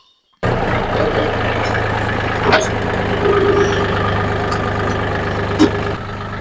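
A mini tractor towing a single-wheel potato digger runs with a steady, loud, close engine drone and low rumble, with occasional clanks over the continuous noise.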